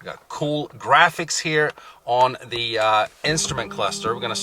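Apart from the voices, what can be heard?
No distinct noise like a dog, phone or traffic.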